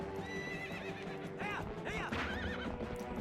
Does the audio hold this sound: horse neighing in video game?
yes